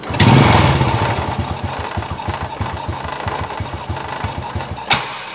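A motorcycle with a loose exhaust manifold bolt fires up and runs at a high, racing idle, a loud close engine with steady rapid thumping pulses and a brief burst near the end, no talk.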